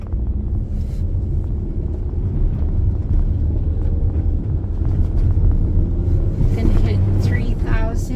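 A manual-transmission car climbs a hill in first gear, revving toward 3,000 rpm before the clutch goes in for second. A steady low engine rumble and wind noise fill the cabin, and a driver talks over it.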